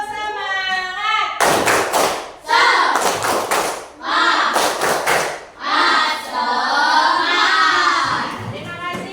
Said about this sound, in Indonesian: Tepuk semangatnya mana? Tepuk semangat.